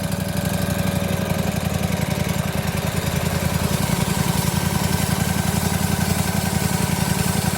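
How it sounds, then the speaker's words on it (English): A small engine powering a wide-cut sawmill runs at a steady, fast, close putter with a rough vibrating drone throughout and no talk. "Got our engine running."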